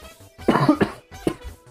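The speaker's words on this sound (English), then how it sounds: "I'm coughing again." Several coughs from a person, two quick harsh bursts followed by a shorter one, close and clear with no speech.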